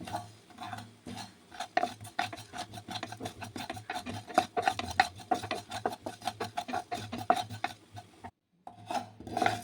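Whole spices dry roasted in a pan over medium flame for vegetarian khichuri, stirred with a utensil in rapid, rhythmic scraping strokes, close and fairly quiet, pausing briefly near the end.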